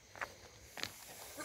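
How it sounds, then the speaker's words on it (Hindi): Goat bleating at a milking site in darkness, two short separate calls about half a second apart, fairly faint against a quiet background. "बकरी देखो बुला रही कैसे आवाज़ कर रही कब से"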